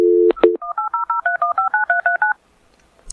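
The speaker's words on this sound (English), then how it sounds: "We're going to try to call Mike Lyrely on the air" A phone line sounds a dial tone, then a rapid sequence of about a dozen crisp touch-tone dialing beeps in quick, even rhythm, loud and close, ending in silence.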